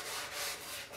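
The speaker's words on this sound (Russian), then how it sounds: "После первичной обработки, шлифовки крупной сороковкой." Coarse 40-grit abrasive rubbing over an old wooden tray from a PMZ-1A, a steady broadband scratchy hiss that swells and eases slightly with each stroke, close and continuous without any talk.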